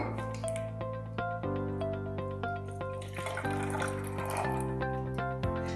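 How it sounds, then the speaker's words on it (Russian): Water is poured into a glass in a kitchen chemistry lesson, a quiet steady trickle with ringing tones that shift in steps as the glass fills. "берем воду, да? Добавляем ее в стакан."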